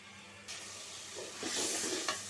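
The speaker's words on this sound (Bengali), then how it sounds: "হলুদের গুঁড়া দিয়ে দিলাম এখন কিছুক্ষণ কষায় নিব কষানো হোক" Turmeric powder and spices sautéing in a pan while cooking a katla fish head curry with Malabar spinach, giving a quiet steady sizzle with soft stirring scrapes that swell toward the end, no talking.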